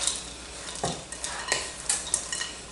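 Brown butter cookie dough being mixed in a bowl, with a few soft scraping and clinking strokes of a utensil against the bowl and low, intermittent stirring noise, close and fairly quiet.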